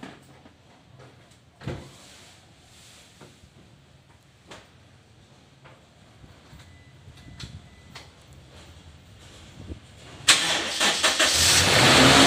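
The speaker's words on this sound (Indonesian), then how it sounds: "Sekarang kita coba untuk starter kuat apa tidak ya." Car with a weak, failing battery being started: quiet handling clicks and knocks at first, then the engine cranks on the starter and grows loud and rough near the end, close by.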